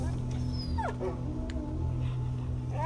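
A dog whimpers and yips in A Plague Tale: Innocence, with short rising whines over a steady low game hum and background murmur.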